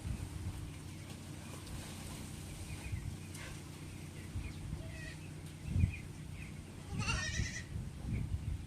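Goats bleat a few times at a distance over a faint outdoor background hum, with short calls scattered through the clip.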